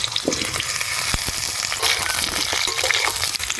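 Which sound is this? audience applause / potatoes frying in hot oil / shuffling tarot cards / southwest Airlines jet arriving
potatoes frying in hot oil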